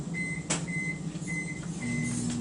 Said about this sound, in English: we're going to go put this in the microwave for 90 seconds